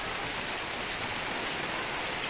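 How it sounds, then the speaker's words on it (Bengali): Heavy rain pouring steadily outdoors, a dense continuous hiss of drops with no voices, close and even throughout. "কি বলবো এত বৃষ্টি নেমেছে"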